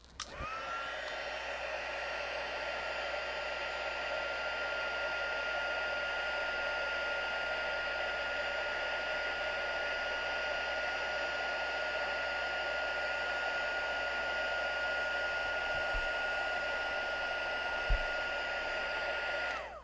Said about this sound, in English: So the heat tool heats up that powder, and now it makes it embossed.